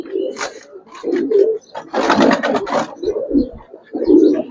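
Old-breed Bagha pigeons, a matched male and female pair on a pigeon farm, coo in repeated low throaty phrases, broken up by louder bursts of wing flapping or scuffling in the middle.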